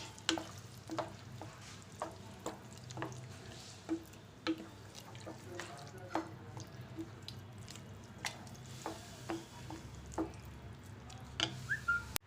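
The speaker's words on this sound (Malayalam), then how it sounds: "എന്നിട്ട് നല്ലതുപോലെ നമുക്കിത് മിക്സ് ചെയ്ത് കൊടുക്കാം." A spoon stirs and mixes vegetable kichadi in a pan, making soft, irregular scraping clicks and wet squishes over a low, quiet background.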